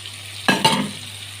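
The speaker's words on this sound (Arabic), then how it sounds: "واسيبهم يتشوحوا مع بعض كده شويه" Chicken and onions seasoned with salt, pepper and spices sizzle in a pan. Two quick scraping stirs land close together, then the frying settles back to a soft crackle.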